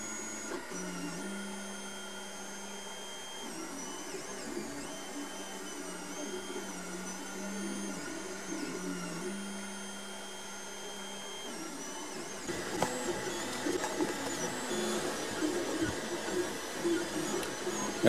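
A 3D printer working close by, starting to print raised lettering after laying down an outline, with a steady whirring motor hum and shifting stepper tones that rise and grow busier toward the end.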